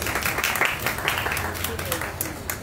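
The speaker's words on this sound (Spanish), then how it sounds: "démosle un aplauso a nuestras invitadas e invitados" An audience claps to welcome poets on stage at a book and culture festival, a dense, steady burst of applause that lasts throughout, with a voice speaking faintly over it.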